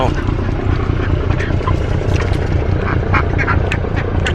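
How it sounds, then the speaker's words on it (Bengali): Ducks quack in short, scattered calls near a chicken coop in a riverside village beside a Sundarbans forest, heard over a steady low engine-like rumble. "মুরগি আছে হাঁস আছে"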